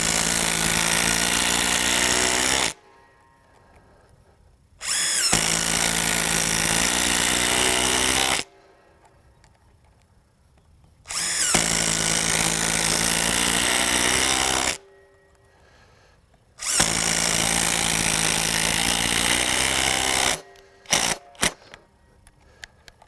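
RIDGID 18-volt sub-compact brushless impact driver driving lag screws into hardwood: four loud, sustained rattling bursts of several seconds each, separated by quiet gaps, with a few sharp clicks at the end.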